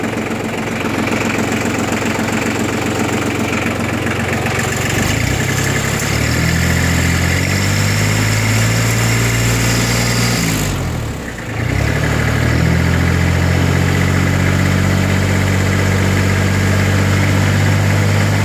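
A Hinomoto E2004 tractor engine runs at a steady, loud, close idle with a low throbbing knock, briefly dipping mid-way before settling back to an even idle.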